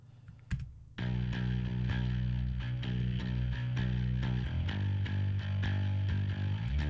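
Bass line processed with EQ boost and parallel multiband compression holding in the low end, from the mix of a song; a brief click precedes sustained, dense, loud bass notes that shift pitch midway.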